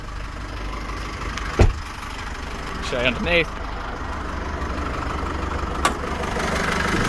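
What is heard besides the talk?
2015 Holden Colorado 2.8 turbo diesel engine idling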